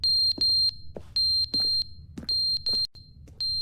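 A high electronic alarm in The Stanley Parable Ultra Deluxe beeps in quick bursts of two or three, repeating insistently, while faint thumps and clicks sound between the beeps.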